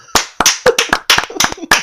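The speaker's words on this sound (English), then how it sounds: "can I get a round of applause for that?" A few close, loud hand claps ring out on a podcast, uneven in timing, each one sharp and snappy, with brief gaps between them and no clear speech over them.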